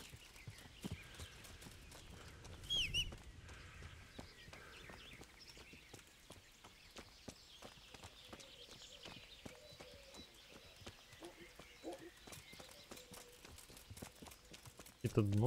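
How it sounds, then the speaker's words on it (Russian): Hooves of a horse following along in the medieval video game Kingdom Come: Deliverance clop at a steady walking rhythm, faint and close, with someone talking at times over them. "Лошадка за мной."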